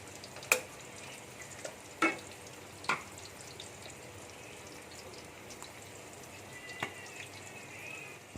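Fish (selayang) frying briefly in a pan, a soft steady sizzle broken by a few sharp clicks and spatters, heard close with no talking.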